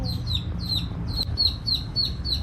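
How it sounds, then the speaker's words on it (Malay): Chicks peep in a steady rhythm of high, repeated calls near a hen, with a low rumbling background behind the close, evenly spaced chirps. "Tu kau nak tak anak ayam?"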